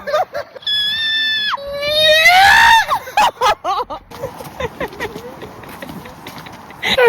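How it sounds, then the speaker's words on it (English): People screeching at a high pitch, a sharp rising squeal that sweeps upward and breaks off, followed by scattered shrieks, laughter and clattering noise around them. "Go, give us your highest screech."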